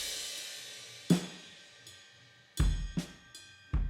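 Virtual drum kit with a custom kick, played solo: a handful of sparse kick and cymbal hits over a decaying crash wash, fairly quiet and without voices.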